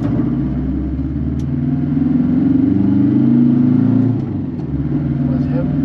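A car engine that has just warmed up, with a slightly high idle, pulling away and accelerating as the rumble swells, then easing off near the end, under someone talking.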